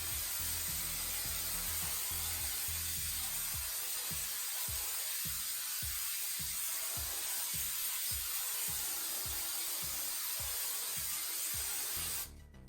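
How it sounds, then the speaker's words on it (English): Hairspray hisses onto hair styled into 1980s curls, a continuous close, bright spray with a faint rhythmic pulsing underneath, stopping abruptly near the end. "Do you think that's enough hairspray?"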